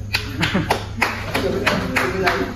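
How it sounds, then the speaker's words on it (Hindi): A small group claps in slow, even unison at a cheerful gathering on a trip to Badrinath, about eight distinct, close claps spaced evenly apart, with people chattering and calling out alongside the beat. "तालियां बजाओ रे"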